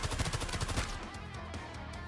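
Rapid gunfire bursts crackle in the video game Arknights, a dense barrage of shots for about a second that then fades into a softer electronic tail.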